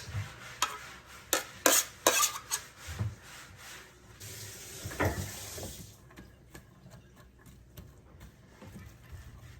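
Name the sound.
onions sautéing in a pan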